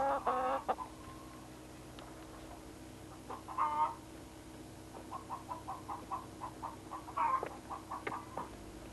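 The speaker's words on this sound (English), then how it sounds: "I can't give you your real breakfast because you're not my hens." Hens cluck close by in short rhythmic bursts and runs of quick repeated clucks, scattered across a quiet background, with a few louder squawky calls.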